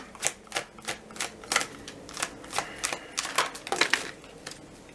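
Crisp, papery snaps and slides come one after another in an uneven rhythm, like cards being pulled from a deck at close range.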